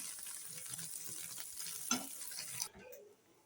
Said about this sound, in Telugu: ఈ కలర్ వచ్చే వరకు మనం ఫ్రై చేసుకోవాలి.